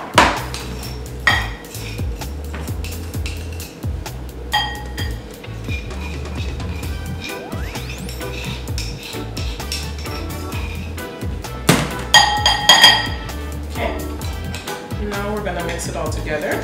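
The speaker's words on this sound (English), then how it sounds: "So I'm just gonna get another spoon. And I'm going to put everything inside, okay? Give it a good mix." A spoon stirs a poutine mixture in a bowl, giving scattered clinks and scrapes against the dish, with a brief burst of louder clatter near the end, set under steady background music.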